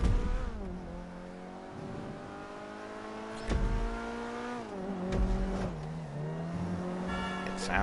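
A sports car engine in GTA Online revs up and down through several swells, its harmonic whine rising and falling with gear changes and brief throttle blips, loud and close throughout.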